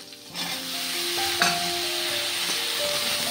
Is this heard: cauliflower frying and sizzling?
yes